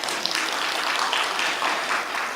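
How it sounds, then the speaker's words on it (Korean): A church congregation applauds during a New Year lecture. The clapping is continuous and fairly even across a couple of seconds, with no talking. "박수 한번 해주세요."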